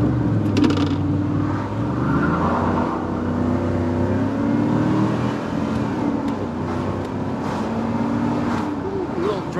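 A 1991 Chevrolet Camaro RS with the 305 V8, five-speed manual and T-tops, heard from inside while driving: a steady, moderately loud engine drone with shifting pitch, with someone talking over it throughout.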